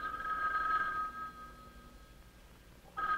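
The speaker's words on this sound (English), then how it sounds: "Now the phone rings." A telephone on a farm interphone system rings with a bright, steady electric bell, one long ring, a pause of quiet, then the ring starting again, fairly faint.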